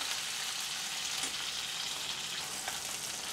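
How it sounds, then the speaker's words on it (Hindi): Mutton pieces fry crisp in hot oil, giving a steady, moderately loud sizzle and crackle with a couple of faint stirring knocks and no voices. "बोटियाँ हमारी अच्छे से फ्राई हो रही है"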